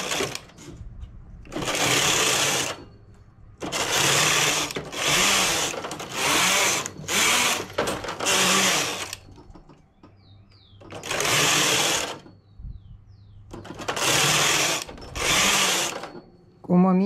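A knitting machine carriage runs back and forth in repeated bursts of mechanical whirring and clicking, about six loud passes with short quiet gaps between them, while a blouse is being knitted.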